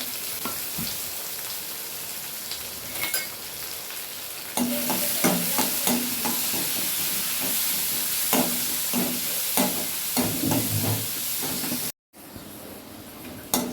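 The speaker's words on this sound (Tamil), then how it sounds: "அதோடு சேர்த்து கொஞ்சம் இந்த பச்சை மிளகாயும் சேர்த்து வதக்கி விட்ருங்க" Chopped onion and green chillies sauté in a pan with a constant sizzling hiss, and repeated scraping stirs join in partway through before a brief cut to silence near the end.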